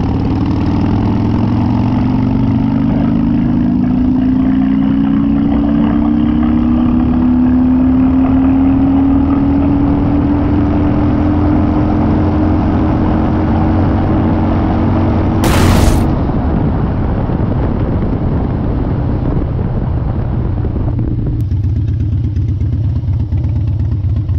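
Harley-Davidson Dyna motorcycle engine cruising in fourth gear at about 2,000 rpm, a loud, steady close-up rumble whose pitch rises slowly, with a brief burst of wind or noise near the end.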